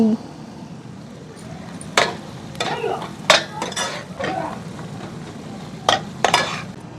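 Chicken pickle sizzles as it fries in a pan, with repeated scraping stirs and a few clinks of a spoon against the metal sounding close over a steady frying hiss.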